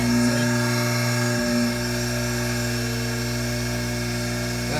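A bench grinder sitting loose on a workshop surface and running steadily, a loud continuous electric whine and hum with strong steady tones, close and unbroken.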